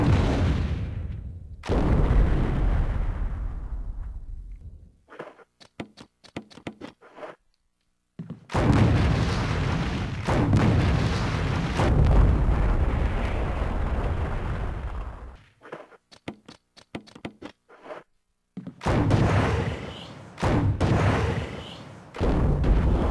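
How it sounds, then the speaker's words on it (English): Grenade launcher in a Resident Evil game firing grenade, acid and incendiary rounds: loud booming shots with sustained blasts, separated by short bursts of quick sharp reports and brief silences. "A gun that fires grenade rounds, acid rounds, or incendiary rounds."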